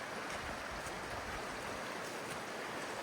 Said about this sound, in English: I have the sound of the river